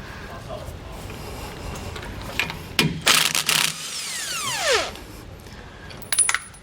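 A ratchet working a 9/16 bolt loose from the front anti-sway bar of a 2008 Winnebago Destination RV, bursts of close metallic clicking and a ringing, falling metal tone, with someone talking nearby.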